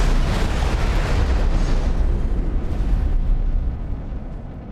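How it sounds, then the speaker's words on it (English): A ship explosion in the space game X4 Foundations: a loud, close, sustained roaring blast that rumbles deeply and slowly dies away over several seconds, with no voices. "Explosion imminent."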